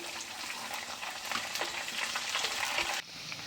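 Green chillies with garlic and ginger frying in hot oil for a Kuttanadan fish curry, a steady close crackling sizzle with scattered pops and stirring scrapes, dipping slightly quieter near the end.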